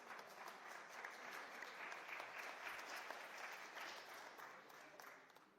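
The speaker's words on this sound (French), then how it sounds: "Je reçois des applaudissements" Steady applause from an audience at a Hanukkah lecture, a dense continuous patter of clapping that holds evenly for several seconds and sounds faint and distant.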